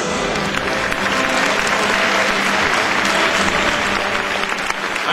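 An audience applauds at a horse show award ceremony for a youth team jumping cup, the clapping dense, loud and sustained throughout without pause.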